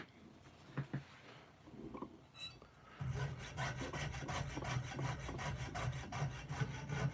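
Hand saw cutting through wood in steady back-and-forth strokes, loud and close, starting after a few seconds of quieter handling and rubbing.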